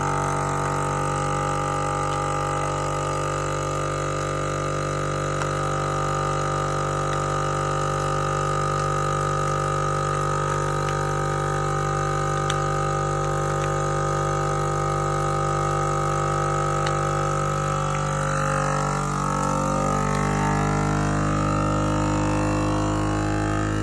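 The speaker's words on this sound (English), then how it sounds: "We're about to put the lid down on the sealer. Turn that to on." A domestic vacuum sealer sealing a rib eye bag drones with a steady motor hum for a long stretch, its pitch shifting near the end as the pump works, with no speech.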